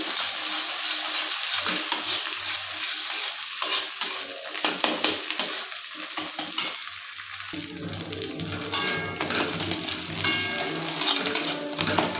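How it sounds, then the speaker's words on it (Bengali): Three eggs fry in a pan, with bright continuous sizzling close up, broken by stirring, utensil clinks and scraping against the pan. "এখানে কিন্তু আমি তিনটে ডিম দিয়েছি ডিমটাকে এখন ভাজছি"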